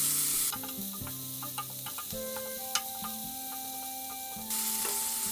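Finely chopped celery and onion sweat gently in a pan, a soft steady sizzle broken by scattered light clicks and scrapes of stirring, with no talk.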